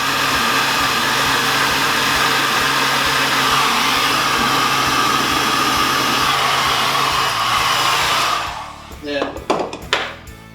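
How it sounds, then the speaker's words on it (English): A heat gun blows a loud, steady, hair-dryer-like rush of air as it shrinks heat shrink tubing during a quad-pod installation, then cuts off near the end, leaving a few short handling knocks. "when you're using shrink tubing, the heat gun really comes in handy to make quick work out of just shrinking the tubing"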